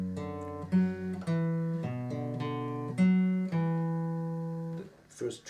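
Fingerstyle acoustic guitar plays one bar of a song, picked notes and chords ringing clearly in a steady rhythm, with a light body knock near the end.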